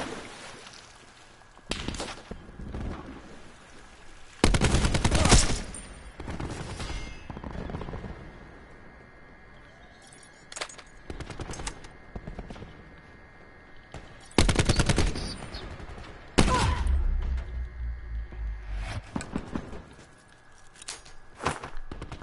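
Gunfire in the shooter Blackout: repeated bursts of automatic fire and single shots in clusters across a long stretch, loud and close against a quieter ambient background, with no talking over it.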